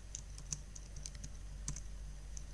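Keys clicking on a computer keyboard while code is typed, a quiet irregular run of light taps with a few sharper strokes, close and alone with no talk.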